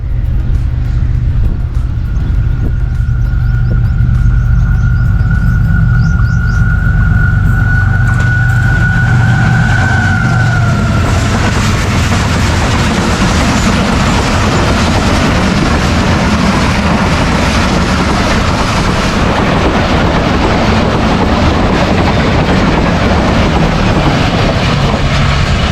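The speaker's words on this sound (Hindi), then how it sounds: "ज़बरदस्त ट्रैक साउंड के साथ ये पासिंग थी 45 आपकी" The Pakistan Express passenger train rushes through the Daban Wala railway yard at around 105 speed, a long, very loud roar of wheels on track, with a horn-like tone early on before the rumbling clatter swells and holds.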